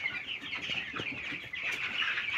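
A shed full of 16-day-old poultry chicks chirps and peeps at night, a dense, continuous chorus of high calls at close range with no talking.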